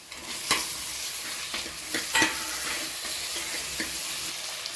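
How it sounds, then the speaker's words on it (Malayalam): Onions, tomatoes and spices fry in a pan for beef curry, with a constant close sizzle broken by several sharp scraping stirs. "നമ്മുടെ ഉള്ളി വഴണ്ടി വന്നിട്ടുണ്ട് ഇനി നമുക്ക് തക്കാളി ചേർത്ത് കൊടുക്കാം"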